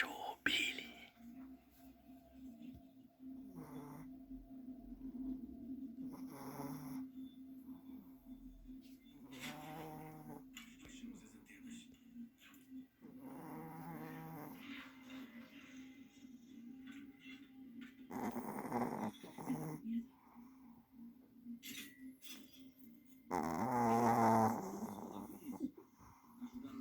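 A pet dog snores in long, slow, rhythmic breaths with soft nasal rasps and occasional whispery exhales, close and quiet, over a faint steady hum, for nearly half a minute.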